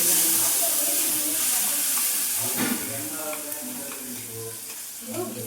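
Spices tempering in hot oil for a chutney in a home kitchen give a steady broadband sizzle with faint clinks and a soft stir, close and continuous throughout.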